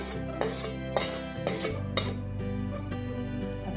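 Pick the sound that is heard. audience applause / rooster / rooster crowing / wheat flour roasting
wheat flour roasting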